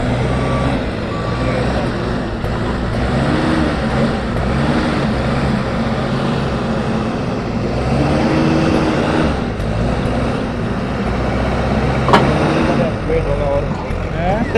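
A backhoe loader's engine runs loud and close with a continuous heavy drone as the machine maneuvers and spins on uneven ground.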